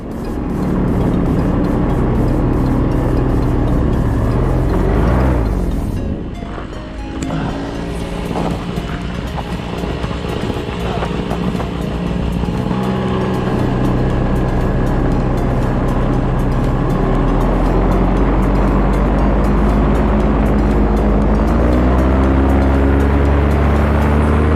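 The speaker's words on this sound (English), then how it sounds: "This is where I'll land with the engine on, reposition and take off immediately." A paramotor engine drones loudly and steadily through a stop-and-go landing and immediate takeoff, with a brief dip in pitch and level as it touches down, heavy wind rush on the microphone throughout.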